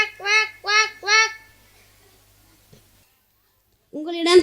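A voice imitates a duck quacking at an inter-school competition: three quick, loud nasal quacks in a steady rhythm, a near-silent pause, then one more quack at the end.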